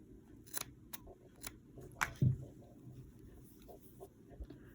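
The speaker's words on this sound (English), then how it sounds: "And then you're going to cut off your yarn." Scissors snipping crochet yarn make a few faint, quick clicks in a quiet room, with one brief sharper snip near the middle.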